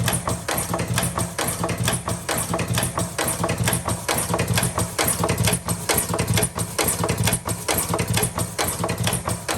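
A tobacco rolling and carton filling machine runs steadily at close range, a dense mechanical clatter with a fast, regular rhythmic pulse throughout.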